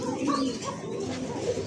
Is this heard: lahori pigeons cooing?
yes